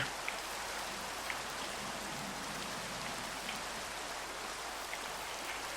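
Continuous soft rainfall from the Minecraft video game, an even hiss of falling drops with faint scattered patters, steady and alone with no talking.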